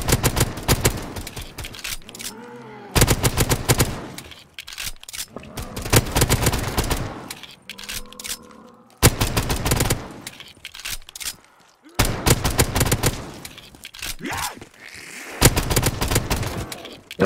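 Gunfire from Call of Duty Zombies crackles in loud, rapid bursts of several seconds each, separated by brief pauses.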